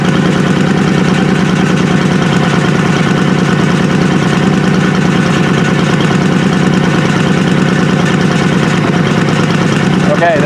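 A 1995-1996 Honda Shadow ACE 1100 motorcycle idles loudly and close during carburetor mixture tuning after a rebuild, a steady dense engine rumble that runs without a break, with faint talking mixed beneath it.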